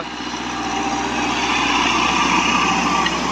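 A tractor engine fitted with a Stanadyne injection pump runs at about 1500 rpm, a steady, loud drone with a constant throbbing rumble, close and unchanging throughout.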